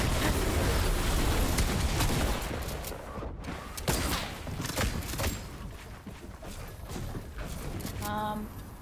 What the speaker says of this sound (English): It's so hard to shoot while moving.